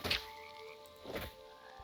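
A blue frog creature in the video game Hytale gives a short croaking call near the start, with a second softer croak about a second later, both close and fairly faint over a quiet background.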